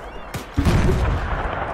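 Grenade explosion in a Mount & Blade mod, a sharp crack followed by a heavy, loud boom that rumbles and decays over about a second.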